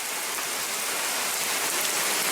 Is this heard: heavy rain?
yes